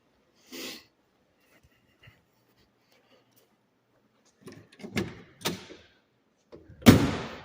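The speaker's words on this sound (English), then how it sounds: "Love the sound of that door." A 1964 Pontiac Bonneville convertible car door opens and shuts in a collector car gallery, with a brief click at the start, then several solid metallic clunks and latch sounds, ending in one firm close.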